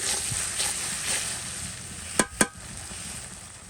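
Ground spice paste of ginger and garlic sizzles and fries in a pan for a fish curry, a steady soft hiss with two brief sharp clatters near the end.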